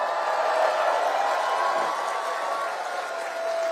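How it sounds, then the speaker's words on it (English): An audience claps for John Nunziata, a former Liberal member of Parliament, producing a steady wash of applause with a faint tone running underneath, heard from a moderate distance. "Give John a round of applause."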